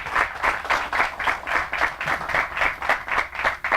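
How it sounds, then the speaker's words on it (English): A crowd at a road groundbreaking ceremony gives a round of applause, its rhythmic clapping swelling and easing in steady pulses, fairly close and without talk. "please give them a round of applause for everything they've done"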